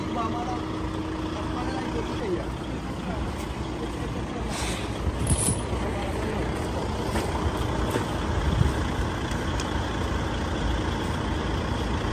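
A heavy truck tractor unit engine rumbles steadily at close range in Suriname, with low-pitched droning throughout and a brief hiss of air partway through.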